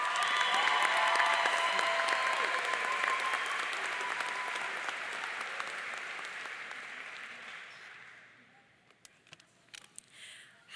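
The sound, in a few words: audience applause welcoming graduation speaker Josie to the podium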